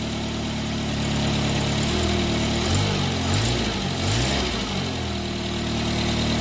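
A 1985 Renault 5 GTL's small petrol engine idles through a new exhaust, a steady close hum that rises briefly in a couple of gentle revs before settling back.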